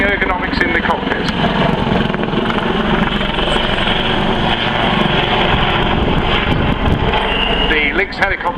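Westland Lynx helicopter performing aerobatics at an airshow, a loud continuous rotor and turbine roar with a dense blade-slap rumble that holds steady throughout, with crowd or commentary mixed faintly underneath.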